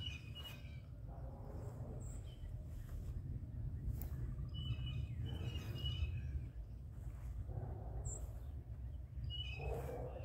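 Birds chirp and call intermittently along a grassy creek trail, faint and somewhat distant, over a steady low rumble of background construction noise.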